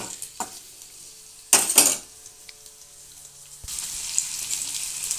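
Onions frying in a pan for a small bitter gourd fry, a quiet sizzle with two bursts of loud spatula scraping and clattering against the pan, then a louder continuous hiss of frying toward the end, no speech.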